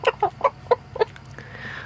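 Chickens and a rooster on a homestead cluck in a quick series of five sharp, close calls, followed by softer rustling and background clucking.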